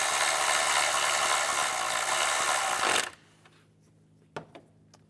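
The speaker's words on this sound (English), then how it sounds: "Tighten the bolt down here." A power tool whirs loudly and steadily for about three seconds while a bolt is driven down on a Cadillac SRX engine, then stops abruptly, leaving a couple of faint clicks and a knock up close.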